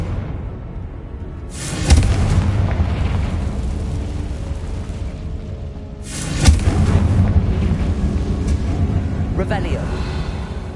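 Confringo blasting spells from Hogwarts Legacy burst twice, each a sharp booming crack trailing into a long rumbling roar, loud and close, with a fainter whoosh near the end.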